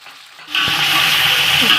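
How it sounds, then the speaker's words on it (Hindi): Chicken for a degi-style pulao hits a hot pan, a sudden loud burst of hissing sizzle after a short quiet moment, then continuing steadily and close. "अब हम चिकन को अच्छे से फ्राई करेंगे"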